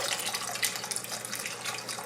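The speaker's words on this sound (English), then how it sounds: "I'm going to add beef stock to cover to make sure the cabbage is high" Beef stock poured into a pot of cabbage roll soup, a continuous faint splashing, gurgling stream of liquid running steadily without pause.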